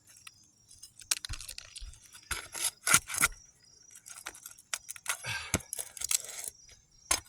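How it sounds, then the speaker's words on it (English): A red asphalt roof shingle is handled and flexed on a re-roofed house, giving soft scattered crinkles, rustles and scrapes, close up and intermittent, with no voices. "I'm trying to be very delicate with the shingle, not over bending it as we move along here"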